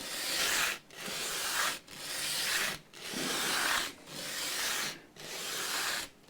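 Fine-grit sandpaper rubs against a guitar part during an acoustic setup, with six steady back-and-forth strokes separated by brief pauses, close and moderately quiet with no talking.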